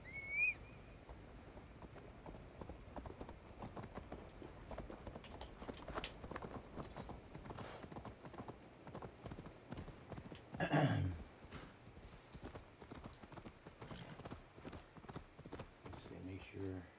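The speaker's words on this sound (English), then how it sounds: "No, we'll just call the horse." Horse hooves clip-clop steadily at a brisk pace in the video game Assassin's Creed Valhalla, a quiet rhythmic patter with a brief whinny, while a player talks over it.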